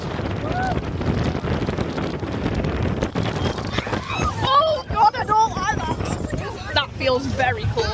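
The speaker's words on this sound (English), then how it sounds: "Oh, it's so windy!" Strong gusting wind buffets the microphone on a fairground ride at Blackpool Pleasure Beach, a loud continuous roar and rumble, with excited voices shouting and exclaiming over it.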